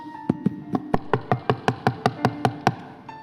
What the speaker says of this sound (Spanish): Seguía tocando la puerta.